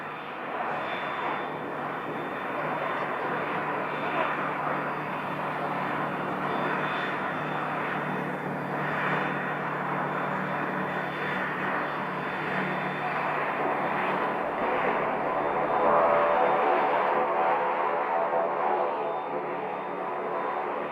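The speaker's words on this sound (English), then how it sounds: "it looks like we have a jet that just landed" A jet airplane arriving and landing at Scottsdale airport, its engine roar steady and broad, moderately distant and slowly building, continuous throughout with no talk.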